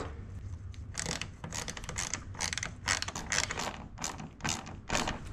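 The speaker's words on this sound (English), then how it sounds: "Go ahead and take those bolts out once you got them all out." Ratchet wrench loosening the bumper bolts on a Ford Mustang S550, heard close as a run of quick ratcheting clicks in repeated bursts with short pauses between them.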